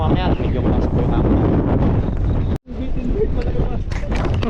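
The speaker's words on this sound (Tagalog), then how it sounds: "Medyo malakas po yung hangin." Strong sea wind buffets the microphone in a continuous roar on a fishing outing on the water, with a voice talking over it throughout.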